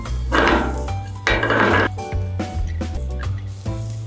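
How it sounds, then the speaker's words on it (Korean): Julienned carrot and zucchini stir-fried in oil in a pan, with bursts of sizzling and utensils clattering against the cookware, loud and close, with short pauses between stirring strokes. "당근, 호박은 채 썰어 기름에 볶아주세요"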